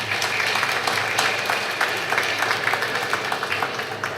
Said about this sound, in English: we ought to give them a resounding round of applause